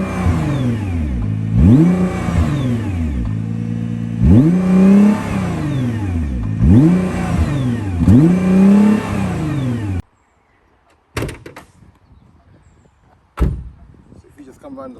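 A 2021 Nissan GT-R R35 with its 3.8 litre twin turbo V6 revving: four loud, rising and falling revs in a steady rhythm, followed by a sudden quiet and a couple of sharp clunks.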